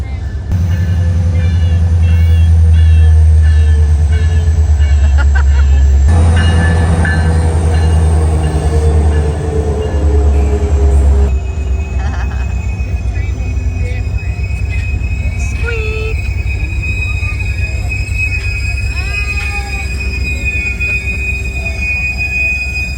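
A passenger train on the Wasilla–Talkeetna line in Alaska rolls in close and loud, its heavy rumble and steady wheel squeal sustained throughout before easing slightly toward the end.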